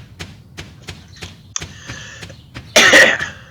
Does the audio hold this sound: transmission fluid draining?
no